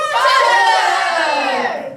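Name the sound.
commotion of a crowd of actors on stage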